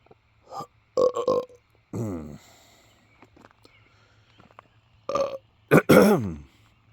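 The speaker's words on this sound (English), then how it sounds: "don't mind the belches" A man belches repeatedly, several loud, croaking burps in short clusters separated by quiet pauses, close to the listener with nothing else around.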